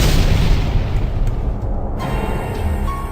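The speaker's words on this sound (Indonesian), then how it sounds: "menyebabkan suara ledakan yang lebih dahsyat lagi" A loud, sustained explosive rumble with dense low-end roar and crackling texture, rolling on for a few seconds without letting up.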